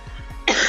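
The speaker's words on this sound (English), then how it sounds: "Sorry for all my sniffles and coughing." A sick yoga teacher gives a single short, rough cough, close and abrupt, preceded by a few faint throaty clicks.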